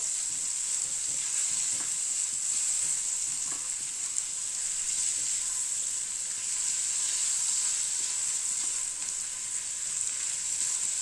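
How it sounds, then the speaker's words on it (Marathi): Paneer fries in a pan with a pinch of turmeric for dhaba-style butter paneer masala, giving a loud, continuous, even sizzle with no voices over it. "आपल्याला पनीर छान फ्राय करून घ्यायचंय"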